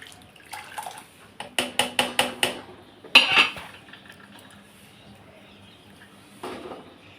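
A utensil scrapes and clinks against a metal pot in a quick run of strokes while a vegetable dish is mixed, then a few scattered knocks in an otherwise quiet room.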